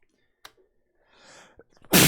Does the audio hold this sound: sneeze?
yes